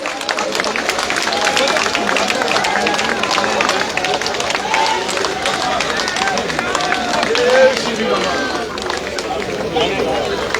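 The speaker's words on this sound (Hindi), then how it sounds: "तालियां बजाकर स्वागत करते हुए सभी लोग नजर आ रहे हैं।" A crowd at a Holi gathering in Karnal claps steadily to welcome Manohar Lal Khattar, a dense, continuous patter of applause running under an amplified voice speaking over it.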